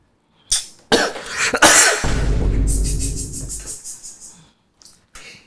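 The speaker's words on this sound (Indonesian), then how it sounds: "Kok dia batuk?" A few sharp coughs, then a longer raspy cough that trails off, followed by short breaths, close to the listener.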